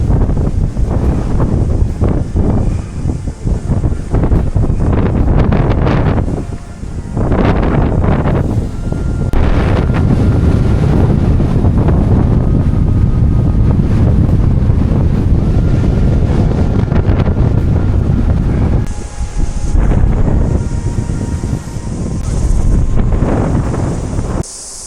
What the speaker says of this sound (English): Sure is nice to get out of that wind.